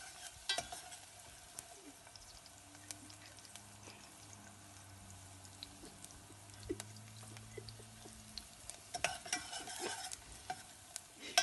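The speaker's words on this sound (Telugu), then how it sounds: "ఈ ఉల్లిపాయలు బాగా దోరగా వేగాలి వెన్నీ." Onions fry in a pan under a low, steady sizzle, with occasional light stirring clicks and scrapes. Faint hums sit underneath, and the sound grows a little busier toward the end.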